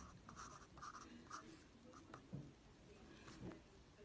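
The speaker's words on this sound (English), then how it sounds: "Then you need to draw a little oval shape there and a little oval shape" Pencil drawing small oval shapes on paper: faint, close scratchy strokes in short bursts, quiet throughout.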